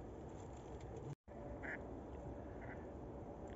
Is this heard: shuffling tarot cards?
no